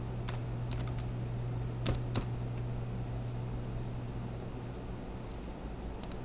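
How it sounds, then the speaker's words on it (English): Someone types a zip code on a computer keyboard: a few quick scattered keystrokes, close and light, over a steady low hum, with no talk. "and then you will type in your zip code."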